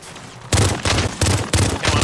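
Custom M4 gunfire in the Warzone video game: loud, close bursts of automatic fire in four rapid strings separated by brief pauses, with no talk over it.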